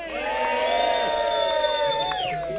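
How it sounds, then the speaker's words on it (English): Crowd at a Ford car show cheering loudly on cue, a sustained mass of shouts, whoops and high children's voices ringing together for a couple of seconds. "can you cheer for me as loud as possible after three"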